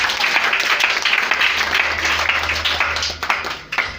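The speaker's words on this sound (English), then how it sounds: "If you are happy, clap for Jesus." A church congregation claps during a sermon, a steady wash of many hands close by that thins out toward the end.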